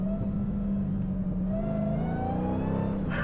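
A 2023 Dodge Challenger SRT Demon 170 engine drops in pitch through a downshift to around 3,000 RPM, a loud, close V8 drone with a brief rev rise near the end.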